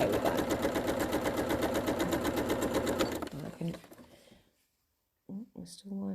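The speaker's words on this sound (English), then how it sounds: "I have moved each piece down each time I'm sewing them together by a good inch" Sewing machine stitching triangle-shaped fabric pieces together for a wildlife panel quilt, running in a steady fast rhythm for about three seconds, then slowing and stopping, followed by a pause and a person talking.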